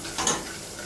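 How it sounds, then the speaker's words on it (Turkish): Flour stirred and toasted in melted butter in a pot, giving a short soft scraping swirl with a faint sizzle that peaks briefly, then settles to a low, steady hiss. "Unun kokusu çıkana kadar kavuruyorum."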